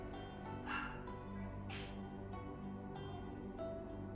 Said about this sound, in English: Many mini Bork, because my dogs are small.